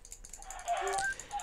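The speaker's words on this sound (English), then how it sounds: "God, evil chickens." Evil chickens in a video game honk and squawk in a short, nasal burst of several calls, moderately loud over faint game background noise.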